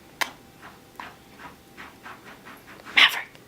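A pet dog indoors in a bedroom gives off a run of quick, rhythmic breathy puffs, like panting and shuffling, with a sharper burst near the end, heard close and alone without talk.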